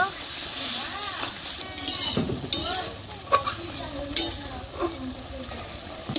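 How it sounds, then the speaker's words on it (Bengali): Turmeric, chili powder and salt are stirred into sizzling spiced oil in a pan for a crab curry, with a steady fry hiss under scraping and occasional clinks of a spoon against metal. "হাফ চামচ হলদি পাউডার, হাফ চামচ লঙ্কা পাউডার, স্বাদ মতন লবণ, সব কিছু ভালো করে মিক্স করে নিব"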